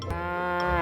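A single cow moos once, a short, close, harmonic low call lasting under a second with no talk over it.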